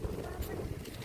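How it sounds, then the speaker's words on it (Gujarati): Wind buffeting the microphone, a low, steady rumble that gusts in and out, with faint voices underneath. "બહુ પવન છે ને કા આજે"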